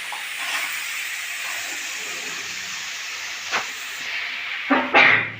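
Boiled peas tipped into a pan of spice mix frying in oil, a steady loud sizzle and hiss throughout with a couple of sharper crackles and a burst near the end.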